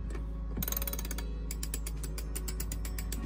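An Andersen ST40 stainless steel winch on a Hallberg-Rassy 312 sailboat is turned by hand, its ratchet pawl giving rapid, evenly spaced metallic clicks in two runs after a short pause, close and clear with no talking.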